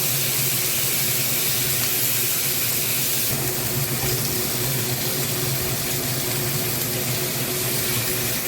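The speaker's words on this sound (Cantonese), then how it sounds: "見到啲大眼雞已經煎到金黃色啦，咁我哋就反轉再煎另外一邊。" Bigeye bream fries in a pan over high heat, giving a loud, continuous sizzling hiss that stays close and steady throughout, with no voices.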